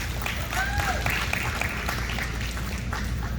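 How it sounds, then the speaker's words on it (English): An audience at a meet-and-greet event claps in a steady, even wash of applause lasting a few seconds, with some voices mixed in. "Can everybody give him another round of applause?"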